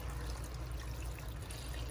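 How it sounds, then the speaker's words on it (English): Water pours steadily into a pot of vegetables and bay leaves being made into stock, a soft continuous trickle that stays at one level and is fairly quiet throughout. "is fill it up with water."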